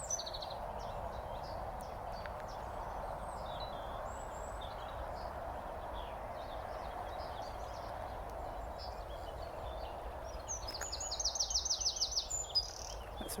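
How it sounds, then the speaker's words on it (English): Faint outdoor ambience with distant birdsong, ending in a rapid, trilling burst of high notes from a small songbird. "That's a wren singing."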